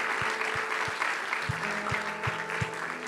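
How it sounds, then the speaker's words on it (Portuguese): Congregation applauding in a church service, a dense wash of clapping hands sustained throughout, with low organ or keyboard notes and rhythmic thumps running underneath. "Vamos dar uma salva de palmas a Jesus."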